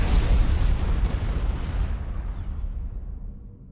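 An artillery turret in the strategy game Supreme Commander 2 fires a single heavy, booming shot that rolls out into a long, fading rumble, loud and alone with no talking.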